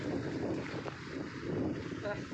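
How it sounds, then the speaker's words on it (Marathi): Steady wind rushes and buffets the microphone throughout on the coast at Guhagar, a constant broadband roar with faint sea water sounds beneath. "वारा सुटलाय"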